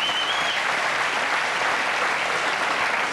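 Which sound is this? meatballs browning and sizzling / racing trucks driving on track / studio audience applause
studio audience applause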